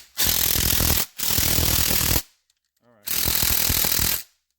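Drill on the bolts of a 2003 Kawasaki Prairie 360 ATV engine, three loud, close bursts of rapid rattling hammering separated by short pauses, with no talking.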